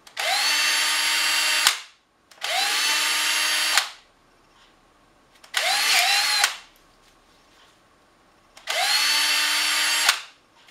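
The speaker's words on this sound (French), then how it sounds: "il faut que je reperce ici pour être capable de revisser ça à sa place" A power drill re-bores the screw holes in an orbital sander's pad, whining in four separate bursts of about two seconds each, loud and close with short quiet pauses between them.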